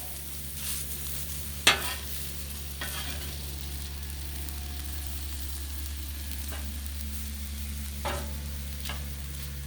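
Beef stir fry sizzles on a Blackstone flat-top griddle, a steady soft frying hiss with a few sharp scrapes and clinks of a spatula, no talk.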